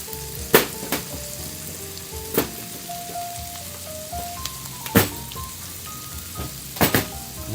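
Onions fry in a pan with a steady sizzle, broken by several sharp clacks of a utensil against the pan.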